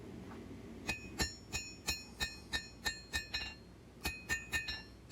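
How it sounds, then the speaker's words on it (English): Sharp metallic ringing hammer blows strike a steel knife blade being hand forged, in a steady rhythm, about a dozen clangs, each with a bright ping, close and clear. "Hammer in a little more shape here on this."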